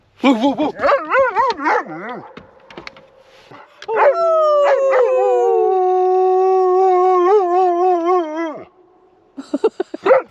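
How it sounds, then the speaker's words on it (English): A dog named Jackson howls in long, wavering, rising and falling wails mixed with yips and barks, loud and close, with a short stretch of voice at the start. "we need Jackson to bark because his bark is the worst."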